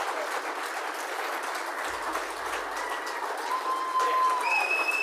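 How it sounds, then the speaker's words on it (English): Award-ceremony audience applauding a lifetime achievement winner, a steady, moderately distant sheet of clapping that runs throughout, with a few faint whistles near the end. "Big round of applause for all of our award winners here tonight."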